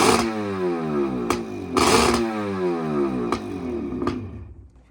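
A Yamaha FX1 jet ski engine idling loudly up close with a steady, buzzing two-stroke throb, rising in pitch several times as the throttle is blipped in short revs.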